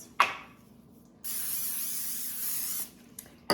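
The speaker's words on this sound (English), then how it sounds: "I've got my 9x13 pan. I am going to spray this." Cooking spray hisses steadily into a 9x13 baking pan for about a second and a half, loud and close, with small clicks before and after.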